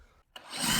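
Power drill driving a metal tapping screw through pre-drilled wood into metal on a home climbing wall build, a short pause then a rising grinding whir that builds quickly and stays loud and close.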